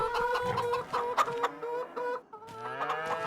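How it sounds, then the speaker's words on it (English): Video-game chickens cluck repeatedly in a busy, overlapping chorus, with a brief pause before the clucking resumes. "So many chickens, too."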